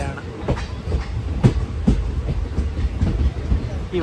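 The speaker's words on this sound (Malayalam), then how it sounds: "അഞ്ചേ 30 ട്രെയിൻ ഇപ്പോൾ പുതുമലൈപ്പേട്ട റെയിൽവേ സ്റ്റേഷനിലേക്ക് ഇതാ എത്തുകയാണ്" A train pulls into Puthumalaipettai railway station on the Palakkad to Chennai line, a steady rolling rumble broken by rhythmic clickety-clack wheel beats over the rail joints, loud and close throughout.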